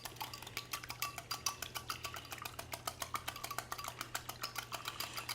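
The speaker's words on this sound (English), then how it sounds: "Just whisk until the yolk is broken." Eggs whisked in a bowl with a steady, rapid rhythm of metal whisk taps against the bowl, quiet and close, with a low steady hum underneath and no voices.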